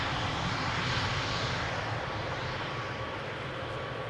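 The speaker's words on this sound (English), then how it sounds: "Dreamliner coming in. KLM flight 741 arriving from Cartagena" A KLM Boeing 787 Dreamliner arriving from Cartagena at Schiphol's Polderbaan runway gives a steady, fairly faint jet engine roar that holds evenly throughout, with no talking.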